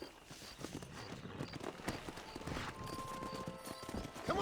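Horse hooves clip-clopping at a steady gallop in the Western game Red Dead Redemption, a rhythmic run of close thuds with a brief whinny and faint background ambience.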